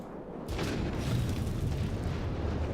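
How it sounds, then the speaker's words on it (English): In the video game Prey, an explosion bursts in suddenly after a quiet moment, then rolls on as a loud, sustained, broad roar that fills the rest of the clip. "Oh yeah, slight explosion again."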